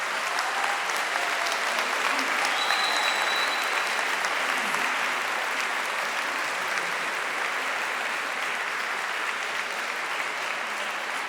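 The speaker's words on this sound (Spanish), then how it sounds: "Un aplauso para él." Sustained applause from a concert audience for a volunteer at a fiftieth-anniversary concert, an even wash of clapping from a large crowd lasting the whole stretch, moderately distant.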